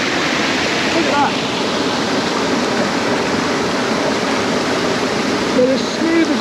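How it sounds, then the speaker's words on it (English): Water cascades and ripples over smooth rocks at an Australian waterfall, a loud, steady rushing wash filling the whole stretch, with faint voices briefly audible beneath it. "the water just ripples and cascades over the rocks there"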